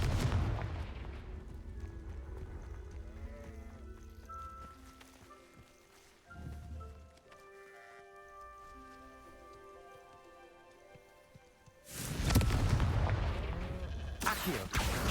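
Confringo fire spell explosions in a wizard video game, a booming blast at the start, another mid-clip, and a loud crackling burst near the end, with quieter game ambience and tones in between.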